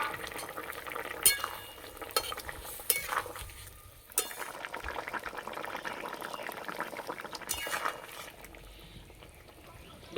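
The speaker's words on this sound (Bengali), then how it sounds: "এবার ভেজে রাখা বেগুন দেব।" Fried eggplant being stirred with a metal spoon into a simmering bottle gourd stem and potato curry in a pan, giving soft bubbling, wet scraping and a few sharp clinks against the pot.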